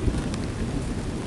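Thunder rolling through a thunderstorm over Copacabana Beach, a low, steady rumble with rain hiss, loud and continuous for a brief moment with no voices.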